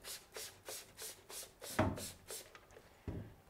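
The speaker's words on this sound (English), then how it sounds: "So let's scrub this one now." Scrubber brushed back and forth across a screen printing screen, about seven steady rhythmic scrubbing strokes, then a pause and a couple of irregular rubs, close and moderately quiet with no talking.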